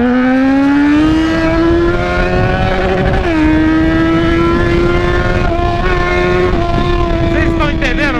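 A Yamaha XJ motorcycle engine holding a loud, sustained drone close by, its pitch climbing slightly and dipping briefly as the throttle shifts, with no talk over it.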